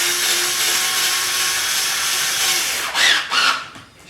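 A power drill runs steadily, driving a screw into the leg of a flat-pack table, with a sustained close buzz that rises into two louder bursts of strain before winding down.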